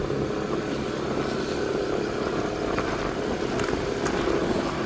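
A small scooter engine runs steadily with a buzzing drone, close and continuous for a few seconds, with no talking.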